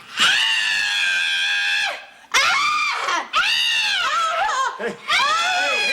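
A woman screams in sustained, loud bursts, about four long shrieks with brief breaks between them, heard up close in a 1970s television comedy scene.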